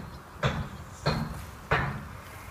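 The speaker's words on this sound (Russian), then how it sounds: "Соседи стучат, строятся." Neighbours' construction work produces three evenly spaced, sharp knocking thuds about half a second apart, fairly close, with no voices.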